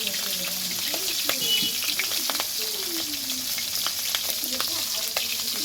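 Prawns frying in a hot pan crackle and sizzle steadily up close, with scattered pops and a stirring scrape, plus a brief faint voice in the background.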